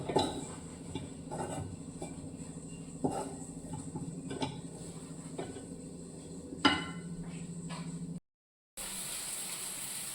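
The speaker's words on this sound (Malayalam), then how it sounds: "ഇനി ഇത് നന്നായിട്ട് മൂത്ത് വരണം നല്ലോണം വഴറ്റിയെടുക്കണം" Onion-spice base for a white chickpea curry is sautéed and stirred in a pan, with a spatula scraping and tapping the metal in irregular clicks over a steady low sizzle, then a brief silent break near the end.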